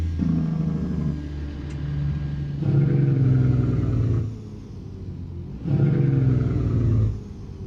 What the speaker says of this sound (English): Got a pretty good sounding Jake brake in it.